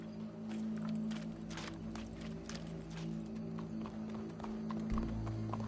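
Steady clip-clop of horse hooves walking at a moderate pace in Red Dead Redemption 2, close by, with a low background hum throughout.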